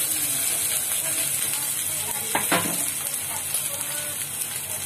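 Cumin seeds sizzle in hot oil, a steady bright hiss of frying that fills the whole stretch, with a short louder crackle partway through and soft kitchen sounds beneath.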